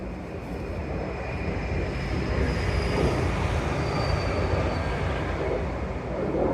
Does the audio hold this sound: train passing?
yes